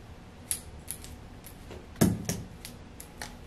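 Scissors snipping through a section of hair to cut layers during a home trim, a series of crisp close metallic snips with one louder cut partway through, no talking.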